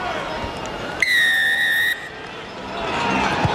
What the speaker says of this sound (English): Just wait for the whistle